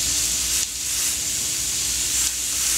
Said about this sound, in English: now we have our little grill all heating up, and we're going to cook these for about 3 or 4 minutes per side